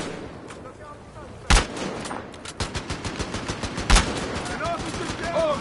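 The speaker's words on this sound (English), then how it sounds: "That's a sniper." Sniper rifle fire in the video game Battlefield Hardline: two sharp, loud single shots about two seconds apart, with lighter rapid gunfire and background game noise around them.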